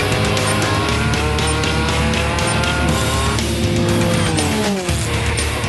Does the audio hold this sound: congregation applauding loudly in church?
no